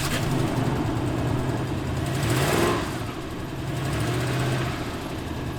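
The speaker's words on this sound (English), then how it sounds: "Something that has also been wrong since I bought the truck is an exhaust leak." A first-generation Toyota Tundra pickup idles with an exhaust leak, giving a steady rough engine drone with ticking and puffing, a brief rise in revs midway, then settling back to a continuous close idle.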